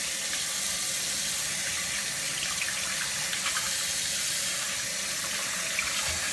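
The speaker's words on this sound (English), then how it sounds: "We're just going to run some warm water." Warm water runs steadily from a kitchen sink tap, a constant close hiss and splatter with no voices.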